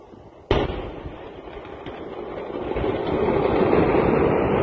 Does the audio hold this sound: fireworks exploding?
yes